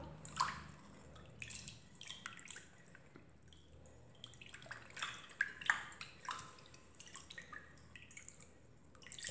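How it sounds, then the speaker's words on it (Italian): Dry yeast being stirred to dissolve in liquid in a bowl while making a soft sweet braided dough: quiet, irregular wet sloshes and light drips and clinks, close by, with no speech. "Andiamo a sciogliere bene il lievito."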